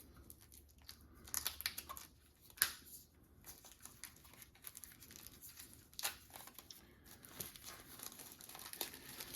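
Card packs for the Halls of Hegra board game are unwrapped by hand, giving soft, close crinkling and tearing of plastic wrap in irregular bursts, quiet and without speech.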